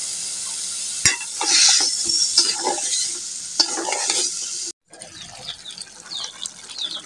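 Vegetables, including stalks and potatoes, stirred and fried in a spice masala in a pan, with a continuous sizzle and repeated spatula scrapes, a short pause, then lighter crackling frying.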